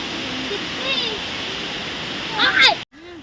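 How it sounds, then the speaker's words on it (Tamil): Thirparappu waterfall roars as a steady, dense wash of falling water close by, with brief faint voices and chirpy sounds over it before it cuts off abruptly near the end. "நாங்கள் இப்போது திருப்பரப்பு அருவி பக்கத்தில் வந்துட்டோம்."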